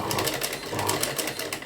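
A sewing machine stitches slowly along cord piping at a blouse neckline, giving a soft, even, rhythmic whirr with regular needle pulses at moderate distance.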